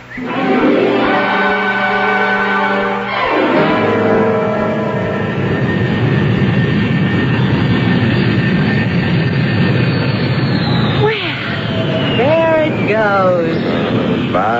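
An airplane taking off as a radio drama sound effect: a loud, sustained engine roar fills most of the clip. Tonal, music-like sounds come first, and a rising whine sweeps in near the end.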